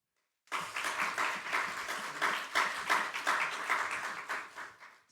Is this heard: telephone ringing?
no